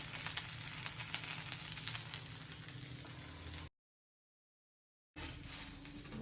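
An onion dosa cooks on a pan over a medium flame, giving a steady, continuous sizzle and crackle of batter and onions frying. The sizzle breaks off briefly to silence, then resumes at the same level.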